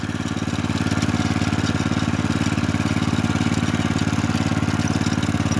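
A walk-behind tractor pulling a flat cutter through a field runs with a steady, throbbing engine chug at constant speed, close and loud throughout, with no talk.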